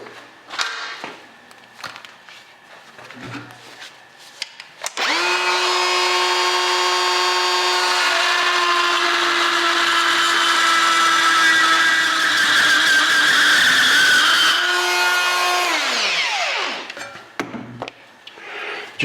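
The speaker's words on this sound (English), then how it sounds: "Let's say you want to countersink a hole for one of these screws." A steady, loud high-pitched whine of a carbide burr on a rotary tool countersinking a screw hole for about ten seconds, spinning up and winding down, with quieter handling noises before and after.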